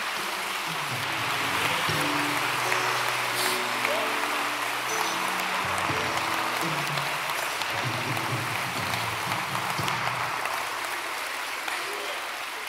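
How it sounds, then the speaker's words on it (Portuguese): Sustained applause from a church congregation during a Portuguese-language service, a steady, dense wash of clapping that fills the room for the whole stretch, with faint voices and music tones underneath. "Quem pode dar mais um aplauso ao Senhor?"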